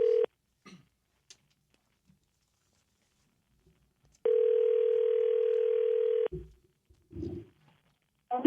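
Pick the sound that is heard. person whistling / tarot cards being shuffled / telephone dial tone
telephone dial tone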